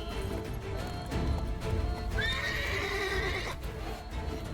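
The horse Roach from The Witcher 3 video game gives a clear, loud whinny in the middle, with hoof clip-clops and game ambience around it and no speech over it.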